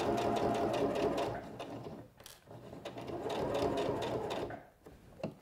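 A SINGER Professional 9100 sewing machine stitches fabric in two steady runs of rapid needle clatter, separated by a brief pause and a few clicks as the fabric is pivoted, close and clear with no talking.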